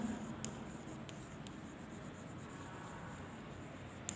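Chalk or marker scratches across a classroom board in a continuous faint rubbing scrape, with small taps as strokes begin and end, heard alone with no voice over it.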